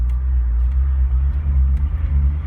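A 1980 Range Rover Classic two-door with a four-speed manual pulls away in first gear, its engine giving a loud, steady low rumble heard from inside the cabin.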